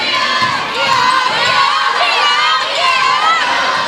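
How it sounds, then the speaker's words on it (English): A huge crowd cheering on semifinal night at a girls' basketball tournament: loud, sustained shouting and high-pitched yells filling the gym without a break. "Huge crowd on semifinal night."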